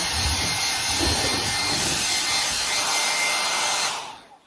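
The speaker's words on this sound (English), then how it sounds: "I'm gonna cheat and use my blow dryer" A steady, loud roar of air from a blow dryer blowing dust off a planter runs continuously, then cuts off and fades near the end.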